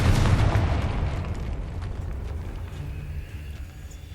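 A Confringo fire spell explodes in the Hogwarts Legacy video game, a loud, deep boom at the start that rolls off into a long, fading rumble and crackle.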